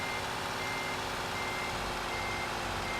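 A truck in the Euro Truck Simulator 2 game reverses, its loud, steady backup beeps repeating over a constant engine drone, with no voices.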